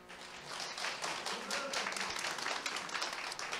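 Audience applause at a business seminar, a steady, dense patter of many hands clapping throughout, fairly close and even in loudness.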